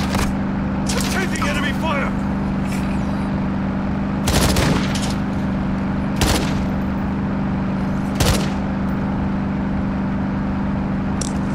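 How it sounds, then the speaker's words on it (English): Gunfire in the video game Call of Duty: Modern Warfare II DMZ, with sharp bursts and single shots breaking out a few times over a steady vehicle engine drone while players talk. "Taking enemy fire!"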